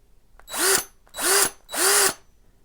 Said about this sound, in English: now the drill is ready to operate